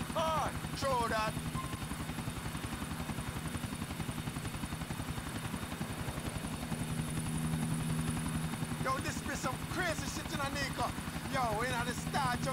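Steady whirring helicopter rotor chop in Grand Theft Auto IV, a continuous pulsing drone throughout, with people talking over it at intervals.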